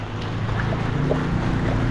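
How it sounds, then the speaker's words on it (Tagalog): Steady, gusting wind roars across the microphone as a continuous low rumble during a day of rain and flooding, with faint splashing water underneath. "Yan, malakas pa yung hangin mga idol. May hangin pa."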